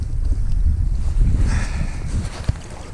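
Wind rushes and buffets against the microphone in a low, steady roar on a freezing winter night by the Dniester River, with a faint background hiss and no talking.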